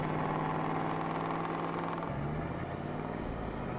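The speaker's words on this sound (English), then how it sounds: "So the engine sounds don't change between diesel and gas, which kind of sucks." A truck engine idles steadily in Farming Simulator 22 as a continuous, droning rumble that stays close and constant, shifting slightly in pitch about halfway through.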